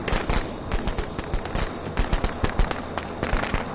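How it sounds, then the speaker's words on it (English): Firecrackers go off in a rapid, crackling string of sharp pops, dense and irregular like a fusillade, loud and continuous throughout. "His firecrackers failed epically."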